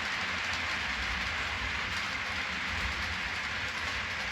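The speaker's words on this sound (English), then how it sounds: "And there goes the train." A train rolls past with a steady, broad rushing rumble and faint rattling, continuous from start to end, with no voices.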